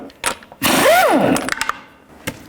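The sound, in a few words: lug nuts being removed from wheel with socket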